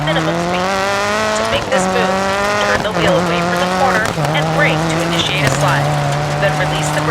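Rally car engine from Dirt 4 braking into a slide, a steady loud engine note with gear shifts and tyre scrub, heard under someone talking throughout.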